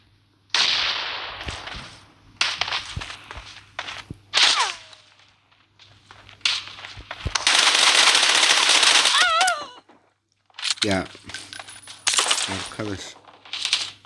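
Free Fire video game combat sounds come in sharp bursts of gunfire and blasts separated by short pauses, with a longer dense burst in the middle and whistling, ricocheting tones, loud and close.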